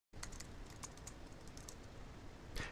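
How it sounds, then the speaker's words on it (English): Rapid keystrokes on a computer keyboard as a website address is entered, a quiet, close run of clicks over a soft steady hiss, ending with a slightly firmer final press. "I'm going to type in a website address."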